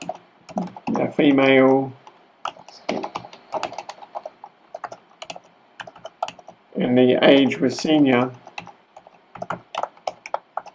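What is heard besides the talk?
typing on a computer keyboard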